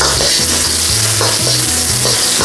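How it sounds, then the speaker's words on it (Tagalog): Chopped onions sauté in hot cooking oil in a pan for a yakisoba-style noodle dish, a steady loud sizzle with a low rhythmic stirring scrape repeating about twice a second throughout. "gisa na po natin ang ating sibuyas"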